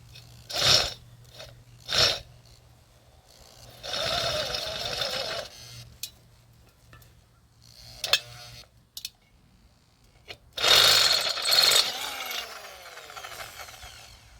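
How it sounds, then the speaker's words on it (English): A power drill whirs in several short bursts, biting through a thin metal can with a rattling, grinding whine, separated by pauses and small clanks. "I just drill a bunch of holes in it now"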